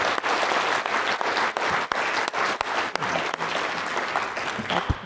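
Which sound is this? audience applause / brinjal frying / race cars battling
audience applause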